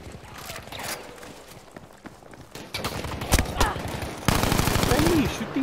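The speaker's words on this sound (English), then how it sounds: "Friendly shooting me, what the hell, man?" A friendly player fires in a video game match, giving rapid bursts of gunshots with mechanical clatter that grow louder and denser toward the end, while a voice talks over them.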